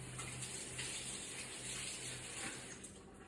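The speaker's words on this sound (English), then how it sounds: "Let me rinse my hand off." Tap water runs into a kitchen sink as a hand is rinsed under it, a steady faint splashing and hiss close by with no talking.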